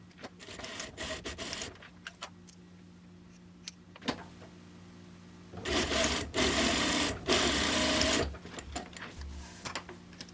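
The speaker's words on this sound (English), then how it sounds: "we are going to sew the bias tape at 1/4 inch along the right side of the neckline" A sewing machine stitches bias tape onto a garment neckline in several short bursts of rapid whirring, with quiet handling pauses between runs and one longer stretch near the end.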